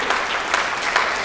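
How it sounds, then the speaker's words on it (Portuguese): A church congregation applauds during a sermon, steady clapping spread evenly through the short moment with no voices on top. "dá uma salva de palmas a Jesus"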